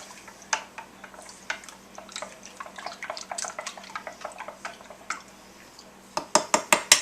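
A spoon stirring vinegar into a dried-milk mixture in a bowl, light scraping and tapping, faint and close, ending in a few sharper clinks against the container.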